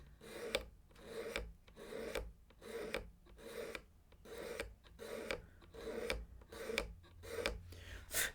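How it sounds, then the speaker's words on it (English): Hand scraper pulled across the wooden body of a Martin D-18 guitar, about a dozen rhythmic rasping strokes in a steady back-and-forth pattern, close and clear with brief pauses between passes. "I'm going to use a scraper and I'm going to come into the body here and pull."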